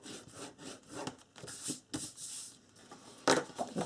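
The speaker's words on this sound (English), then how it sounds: "This one, go ahead and fold, burnish, get a really good burnish here." Folded paper card being burnished along its crease, a series of quick dry rubbing strokes, close and faint, with no talking.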